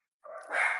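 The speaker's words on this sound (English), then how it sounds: "I'm sorry about my dogs." Dogs barking nearby in a home during an interview, a short burst of one or two muffled barks after a moment of silence.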